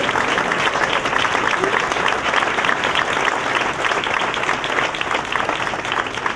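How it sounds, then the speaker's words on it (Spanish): Sustained, loud audience applause honours a military band and its lieutenant at a legion music event, the thick wash of many hands clapping continuously and evenly from start to finish. "Vamos a darle un aplauso."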